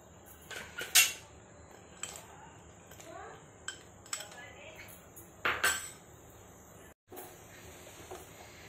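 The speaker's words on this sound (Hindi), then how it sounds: "तो बस अब मैं इसके अंदर डालती हूँ ड्राई फ्रूट्स" Dry fruits tipped into a pan of roasted besan halwa and stirred, giving a few scattered clinks and scraping clatters of a spoon against the pan, with soft hiss between, fairly quiet and close.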